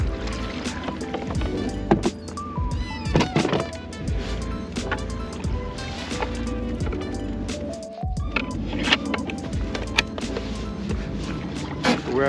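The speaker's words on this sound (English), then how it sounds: "let's get this kayak on the way and see if that motor works" A MotorGuide Xi3 Saltwater electric trolling motor pushes a Hobie PA 14 kayak across the water, giving a steady, fairly loud churn with splashing and hull noise throughout and a brief dip partway through.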